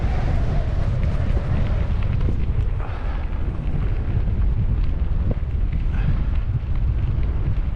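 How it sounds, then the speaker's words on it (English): Cold outdoor wind buffets the microphone by a rail spur in swampy country, a loud, continuous low roar with gusting rumble that never lets up across the whole stretch, with no talk over it. "Oh wow, that wind is cold."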